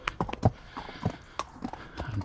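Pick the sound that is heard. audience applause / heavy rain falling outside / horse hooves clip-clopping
horse hooves clip-clopping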